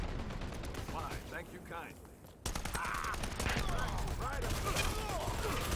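Grenade blasts and rapid gunfire in a competitive video game match, dense and continuous bursts with a sharp explosive onset midway, while commentators talk over the action.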